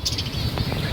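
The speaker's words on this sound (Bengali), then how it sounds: "এটা হচ্ছে ককাটেল।" A cockatiel chirps in short bright bursts at a pet shop, heard briefly and fairly loud against a low background hum.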